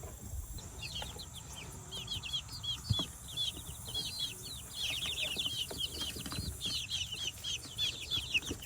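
Chickens clucking and chirping in a backyard flock, a steady stream of short repeated calls at moderate distance over low outdoor rumble, with no talk.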